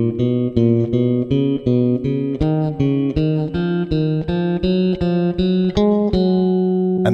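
A piccolo bass plays a rising scale in groups of three notes, each note plucked evenly and clearly, steady and close with no voices.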